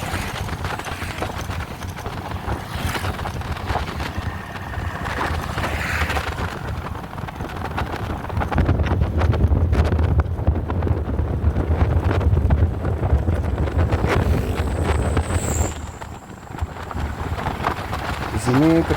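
Wind roars steadily past a Suzuki Burgman Street 125 scooter with a quiet aftermarket exhaust as it climbs a hill, a loud, constant broadband rush that swells midway, with a voice speaking at times over it.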